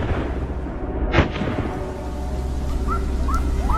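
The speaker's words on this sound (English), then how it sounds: "suddenly a gunshot rang out on the other side of the meadow" A single gunshot cracks out at a distance across a meadow during a wild boar hunt, one sharp report over a steady outdoor rumble, with faint bird chirps following.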